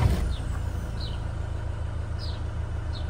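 A 2010 Land Rover Defender 90 with a 2.4 TDCi diesel engine idling steadily after starting, a constant low rumble heard close with no talking.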